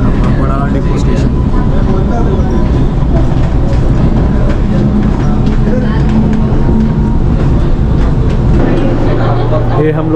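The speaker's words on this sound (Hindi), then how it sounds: "चार कोच का ट्रेन ही है मोनोरेल" A four-coach Mumbai Monorail train running between stations: a loud, steady mechanical roar and rumble from inside the moving car, continuous throughout, with people talking over it.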